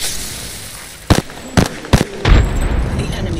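A frag grenade goes off in Apex Legends amid a firefight. Several sharp, loud bursts crack in quick succession, then a heavier boom rolls out and lingers.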